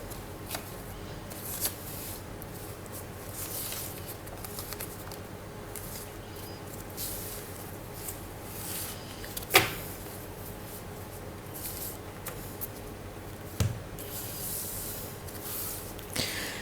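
Tarot cards being shuffled and drawn for a reading, a soft continuous papery rustle with occasional faint taps and one sharper snap, quiet and close.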